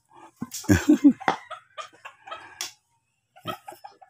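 Chickens cluck in short, uneven bursts close by at a seaside yard, several loud clucks early, then scattered softer calls after a brief quiet gap.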